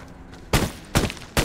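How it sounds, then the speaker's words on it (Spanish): Gunfire in the video game Code of War comes as three sharp bursts spaced about half a second apart, each loud and crackling against a quiet background. "Están disparando, eso quiere decir que está atrás mío el chabón."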